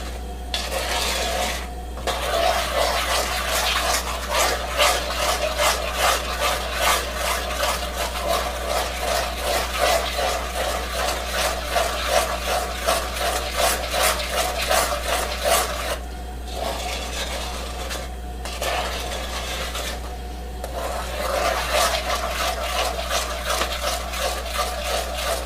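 A spoon stirs sugar and cocoa powder into milk in a pot for chocolate peppermint fudge, giving continuous rhythmic scraping and rubbing strokes against the pot with a steady low hum underneath and a few short pauses.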